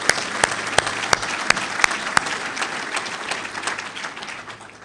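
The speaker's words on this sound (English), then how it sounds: "please give yourself a round of applause" An audience of aviation department staff in a Chicago event room breaks into applause, a few sharp distinct claps standing out over a steady crowd clatter that slowly fades toward the end.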